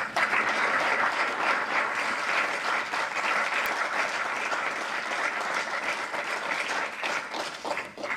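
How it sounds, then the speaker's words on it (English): Sustained applause from an audience at a professorial inauguration honouring Professor Habib Noorbhai, a steady dense wash of clapping at even loudness throughout with no talk. "I think that we should give Professor Habib Noorbhai another round of applause."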